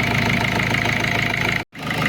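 Steady, loud rumble of a 1.6 HDi diesel car engine idling with a clattery knock, after an oil leak repair, broken by a brief dropout near the end before resuming.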